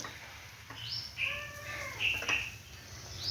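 A cat meows several times in short, rising and falling calls, fairly close but soft, with faint indoor background noise between the cries.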